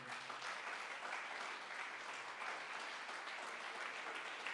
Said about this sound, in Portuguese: Gostaria que você aplaudisse mais forte o Senhor.